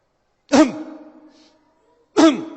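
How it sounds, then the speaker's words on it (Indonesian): Two short, forceful throat clearings about a second and a half apart, close and distinct, with quiet in between. "Gimana cara berdehem yang benar?"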